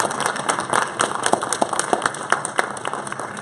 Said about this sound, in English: Our team is applauding you guys.